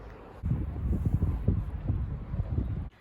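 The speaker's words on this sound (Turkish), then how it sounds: "rüzgardan sesimiz duyulmayacak diye" Steady gusting wind on a balcony buffets the microphone in low, uneven rumbling bursts, loud and close, with no voices.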